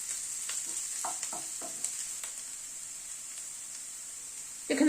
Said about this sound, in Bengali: আদার কাঁচা লঙ্কাটা দিয়ে আবার একটুখানি ভেজে নিচ্ছি।